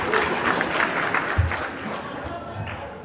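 Audience applause at a Marathi political speech gathering, a steady wash of clapping from a crowd with voices mixed in, moderately loud and sustained before tapering slightly.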